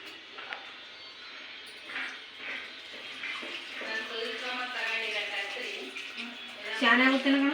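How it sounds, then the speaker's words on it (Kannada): Jaggery water splashes and trickles as it is poured into a pot of cooked wheat rice in a home kitchen, a light running-water sound with voices talking over it. "ಬೆಲ್ಲದ ನೀರು ಹಾಕೋಣ."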